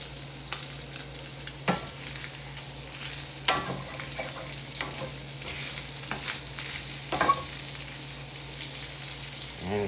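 Sausage fries in a cast iron pan with a steady sizzle, and a utensil scrapes and taps against the iron now and then.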